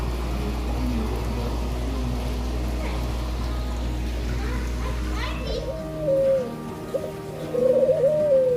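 A bird at a nature museum gives a few short rising calls near the end, over a steady low hum and faint background voices of children.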